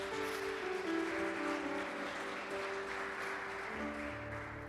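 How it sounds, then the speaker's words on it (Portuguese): A church congregation claps in response to a pastor's call to applaud the Lord, a steady wash of hands sustained over held organ or keyboard tones, fairly quiet and distant throughout. "Vamos aplaudir ao Senhor, gente?"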